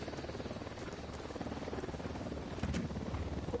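In Ghost Recon Wildlands, a helicopter passes overhead with a steady low rotor throb at moderate distance, mixed with faint background game noise and no voices.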